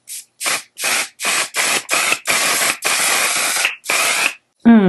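Makeup setting spray misted onto a face in a quick series of short hissing bursts, about nine pumps in an uneven rhythm, close and fairly loud, with a brief voice right after.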